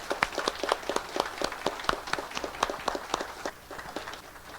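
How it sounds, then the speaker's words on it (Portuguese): An audience at a business panel on artificial intelligence applauds Alessandra with steady, fairly sparse clapping at moderate volume that eases slightly toward the end. "Peço uma salva de palmas para a Alessandra."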